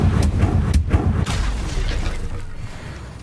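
A Confringo fire spell blasts in Hogwarts Legacy, a loud burst with sharp cracks and a booming low rumble that fades over a few seconds.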